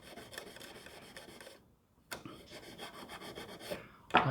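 A hand tool rasps across a wooden scarf-joint guitar neck being shaped, steady close scraping strokes that pause briefly midway, then resume, ending with a louder scrape.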